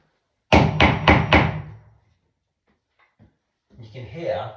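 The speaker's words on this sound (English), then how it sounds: "give it a knock" Four quick, solid hammer knocks on a hollow ceiling surface while searching for joists, close and resonant, followed by a pause and then a voice speaking.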